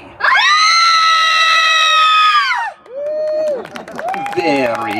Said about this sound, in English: all 3 of you in unison give us your scream